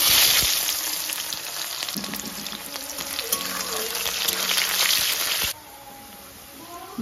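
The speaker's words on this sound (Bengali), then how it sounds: "এবার আমি পেঁয়াজ কুচি দিয়ে দেবো।" Chopped onions hit hot oil in a pan with cumin and bay leaf for biryani, giving a loud, close, steady crackling sizzle that drops abruptly to a quieter hiss near the end.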